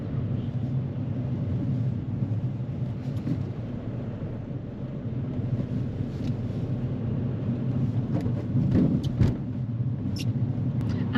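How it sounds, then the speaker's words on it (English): A car's engine rumbles low and steady after being put into fifth gear at too low a speed, a constant muffled drone heard from inside the cabin with faint road noise. "Abdul accidentally goes into 5th gear, which causes the car to rumble a little bit as we're too slow for this gear"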